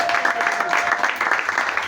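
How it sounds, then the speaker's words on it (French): An audience applauding a doctor at a Christmas party for children with sickle cell disease, steady clapping from a crowd throughout, moderately loud. "Applaudissons une fois pour lui."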